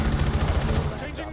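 Rapid automatic gunfire from the video game Rainbow Six Siege rattles in a fast burst of shots, then quickly trails off into a fainter tail.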